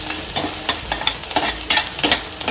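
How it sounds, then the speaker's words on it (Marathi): Onion sautés in a pan in a Konkan home kitchen, loud close sizzling with rhythmic scraping stirs every few tenths of a second, no talking. "तर कांदा परतताना थोडंसं"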